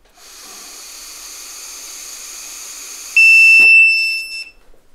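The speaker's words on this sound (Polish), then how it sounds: "Pojawił się sygnał dźwiękowy, czyli pomiar został zakończony." An Xblitz Unlimited breathalyzer hisses steadily as breath is blown through its mouthpiece, then gives one sustained high electronic beep close by to signal the measurement is finished.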